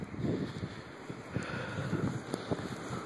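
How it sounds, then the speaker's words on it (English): Gusty wind buffets the microphone outdoors in cold, snowy weather, a steady rushing roar with sharper bursts, no voices. "That's real wind gust right there. Oh man, it's windy."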